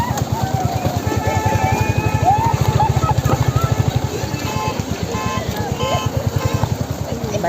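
A Royal Enfield Hunter 350 idles and rides on rough off-road ground near a river, a loud, near, rhythmic single-cylinder thump throughout, with people talking over it.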